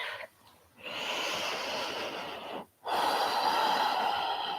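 Deep, slow breaths drawn and released during a gentle restorative yoga session, two long close airy breaths separated by a brief pause, with no talking.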